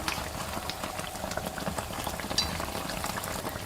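Youtiao dough sticks deep-frying in hot oil over medium-high heat, giving a steady, dense bubbling crackle that stays fairly loud and even throughout, with no voices.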